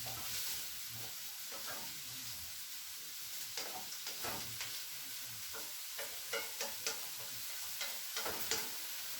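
Chopped vegetables for a vegan curry sizzle steadily in a hot pan, with irregular scraping and clinks as they are stirred and moved around. Close and moderately loud, with no talking.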